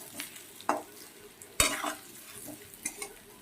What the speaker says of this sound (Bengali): দিয়ে দেব সেদ্ধ করে রাখা কচুটা। একটু নাড়িয়ে চাড়িয়ে ভেজে নেব